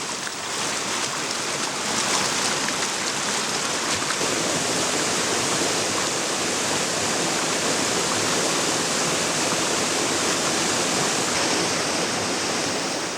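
Mountain stream in the Daewonsa valley of Jirisan rushing steadily over rocks, a dense, continuous broadband roar of flowing water, close and loud throughout with no voices.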